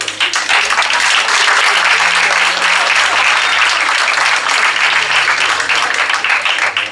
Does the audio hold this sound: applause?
yes